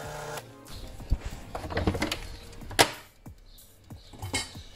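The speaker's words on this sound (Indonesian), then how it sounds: "Kalau kita pakai stand mixer seperti ini harus dibantu sekali-sekali saat mengocok" A stand mixer beats butter cake batter for a marble cake, its motor whirring unevenly with scraping and the occasional clink of the beater against the bowl; no one speaks.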